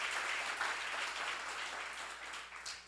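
A church seminar audience breaks into applause, a dense wash of many hands clapping together that holds strong and then begins to taper off.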